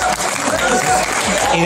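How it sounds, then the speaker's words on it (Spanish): Audience at a university podcast event clapping for a Tuna Universitaria student troupe, steady dense applause close by with voices mixed in throughout. "Palmas, por favor, palmas."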